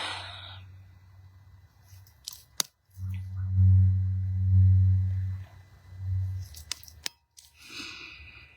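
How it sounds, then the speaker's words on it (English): A Schumann frequency tuning fork rings in clear, steady low tones across two long sustained strikes, the second fading quickly, with sharp clicks and breathy rustles around it. "This is the Schumann frequency. This is one of my newer forks."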